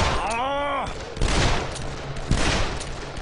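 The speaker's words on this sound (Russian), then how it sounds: "Так, попытаемся постреляться с ними." Rapid bursts of gunfire from the video game Dead Island, played on a gamepad, sound in loud repeated volleys, with a sweeping electronic tone and other game sounds mixed in.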